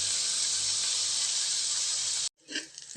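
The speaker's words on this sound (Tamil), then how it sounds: "வெங்காயம் நல்லா செவக்க வதங்கட்டுங்க" Onions sauté in a hot pan with a loud, steady hiss close by that cuts off abruptly near the end, followed by a brief softer rustle.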